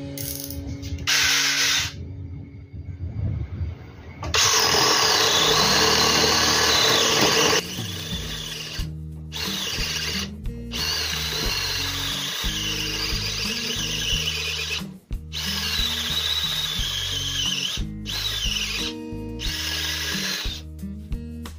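A Dewalt 12V brushless drill driver bores into wood with a 1-inch bit, its whining motor loud and close with grinding, ratcheting bursts and squeals, pausing briefly between several long drilling runs.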